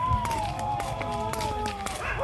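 A dog barks and yelps repeatedly nearby, sharp cries over a steady rumbling background with faint voices.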